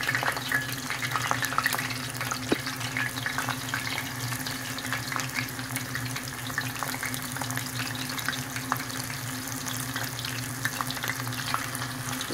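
Corn tortillas frying in hot oil for tacos, a dense, steady bubbling sizzle close by with occasional light clicks of tongs, without any talk.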